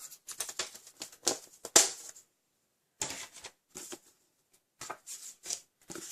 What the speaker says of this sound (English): I'm just going to cut a 1/2 inch strip